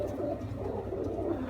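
Sialkoti Lahori cross pigeons cooing softly nearby in a steady low murmur, over a brief stretch.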